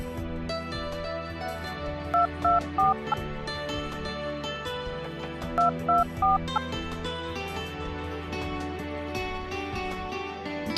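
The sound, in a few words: telephone dialing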